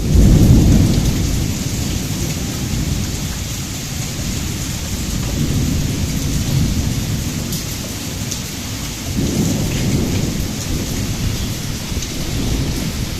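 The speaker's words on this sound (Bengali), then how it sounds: "আর বাড়ি ফিরতেই শুরু হলো প্রচণ্ড বৃষ্টি।" Heavy rain pours steadily outside a home, a dense loud hiss, while deep rolls of thunder rumble at the start and again later, with no voices.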